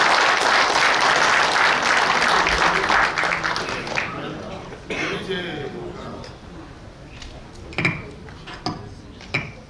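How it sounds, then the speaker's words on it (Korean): A lecture audience gives a warm round of applause to welcome a novelist to the stage, dense clapping that fades after a few seconds into scattered knocks and clinks, with a voice speaking faintly underneath. "여러분 큰 박수로 맞이해 주시면 감사하겠습니다."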